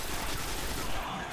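Sustained, dense gunfire in the video game Destiny, a loud unbroken wash of rapid shots with no pauses and no speech.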